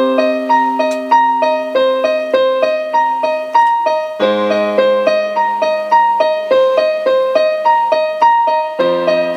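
Piano plays the intro and first verse of a song with no singing: clear, evenly paced repeated notes over sustained low chords, close and moderately loud throughout.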